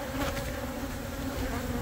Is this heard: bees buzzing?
yes